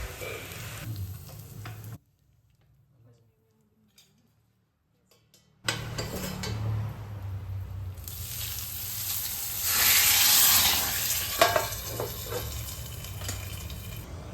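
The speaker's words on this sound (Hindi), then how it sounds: "तो चलिए अब जल्दी से कढ़ी में लगा देती हैं तड़का।" A tadka of spices and curry leaves for kadhi sizzles and crackles loudly in hot oil, cut by a brief near-silence before the frying resumes and swells in intensity, with a few utensil taps.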